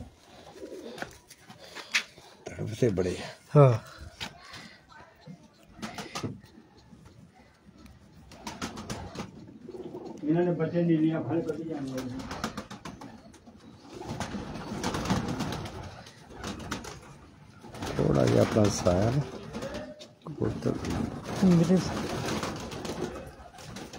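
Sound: pigeons cooing

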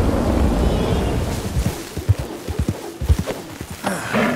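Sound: horse hooves while riding in Red Dead Redemption 2 video game

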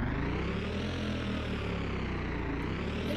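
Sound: Bugatti car engine revving in Driving Empire video game

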